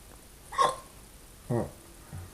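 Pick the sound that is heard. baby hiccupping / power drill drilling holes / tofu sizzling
baby hiccupping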